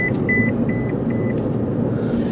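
A parked car's warning chime beeps in short, evenly spaced electronic tones, four or five quick pulses over a low steady engine or road rumble, with no talking.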